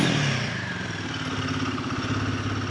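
A stock Royal Enfield Guerrilla 450 motorcycle runs close by, its engine settling into a steady, throbbing idle with a mechanical clatter, with no voices.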